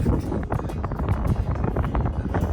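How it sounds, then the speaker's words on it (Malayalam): Steady, blustery wind buffets the microphone throughout on a mountain trek in Nepal, a dense low rumble with gusty fluctuations and no voices. "പക്ഷെ നല്ല കാറ്റുണ്ട് കേട്ടോ"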